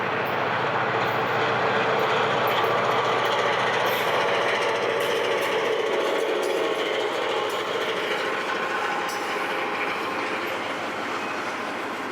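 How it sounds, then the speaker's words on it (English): A continuous rumbling roll of a model train running along its track on a layout, steady and fairly loud throughout with faint clicking over the top. "We might as well take a look at a train on the roll."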